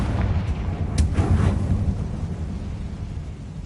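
A fiery Confringo blasting spell explodes in Hogwarts Legacy, a deep rumbling boom with a sharp crack near one second, then a low roll that fades over the next few seconds, with no talk.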